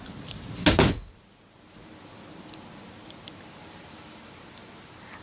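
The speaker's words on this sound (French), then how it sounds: "ma porte, elle s'est fermée toute seule" A bedroom door closes on its own with a short, fairly loud thump near the start, followed by near silence with faint scattered ticks and a small knock at the end.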